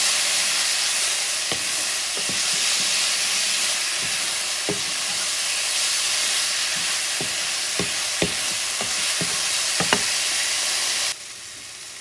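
Alligator stew with smoked paprika sizzling in a pot while being stirred, a steady hiss broken by scattered scraping clinks of the spoon, quieter at the very end, no talking.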